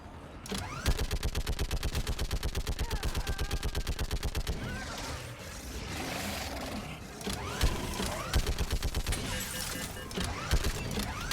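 Rapid automatic gunfire in Mass Effect 3 rattles in long, evenly spaced bursts, broken by a brief mixed lull of scattered shots and battle noise, then more bursts near the end.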